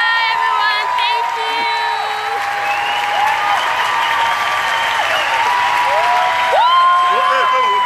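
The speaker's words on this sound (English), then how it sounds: "We are cheering." A graduation crowd applauds and cheers steadily, with loud clapping throughout and voices calling and whooping over it.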